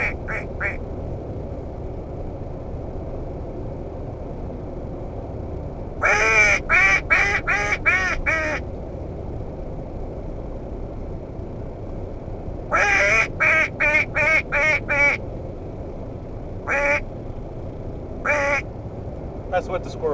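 A man's mouth imitates mallard duck quacks in clusters of four or five rapid nasal calls, then in single spaced quacks, over a low background hum.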